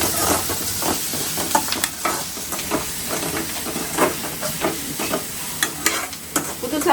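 Ground coconut paste fries in a pan with a steady hiss and sizzle, while a spoon scrapes and stirs in quick, irregular strokes up close.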